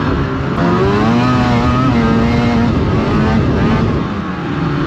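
Snowmobile with a 600cc two-stroke engine held at full throttle, a loud, steady, close high-pitched whine with a slowly shifting pitch that runs without a break throughout.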